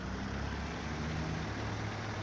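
A heavy truck engine idles and drives in the off-road game SnowRunner, running on chained tires. The rumble is steady, loud and low, and it fills the whole clip.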